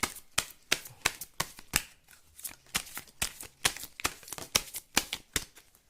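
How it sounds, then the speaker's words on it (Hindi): Tarot cards are shuffled and drawn by hand, a run of quick, crisp riffling flicks and slaps in an uneven rhythm, close and fairly quiet with no talk. "चलिए कुछ और कार्ड्स निकालते हैं।"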